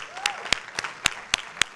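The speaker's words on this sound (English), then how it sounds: "We applaud that decision." Scattered applause from a church congregation, a handful of sharp separate claps spaced irregularly over a couple of seconds, fairly close and with no talk over them.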